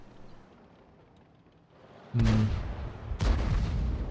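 Tank cannon shots in the World of Tanks video game, two loud booming blasts about a second apart that rise sharply out of a low rumbling background and ring on afterward.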